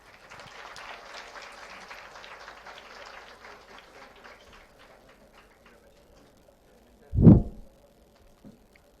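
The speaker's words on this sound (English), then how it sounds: "let us welcome Srinivas Mohan Garu with a round of applause" Audience applause welcoming a speaker at an alumni gathering, a soft, scattered clapping that fades out, followed by a sharp thump or bump.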